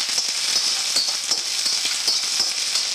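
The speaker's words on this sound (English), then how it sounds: "we are now adding the bok choy with little carrots, which we have cut already, and we're going to just stir that very quickly" Bok choy and little carrots stir-fry in a wok with a loud, steady hiss and sizzle, broken by quick scraping stirs, and no voices.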